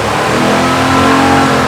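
A muscle car engine fitted with a new Holley carburetor, fresh spark plugs and adjusted timing runs loud and close, rising into a steady full-throated rev with no speech.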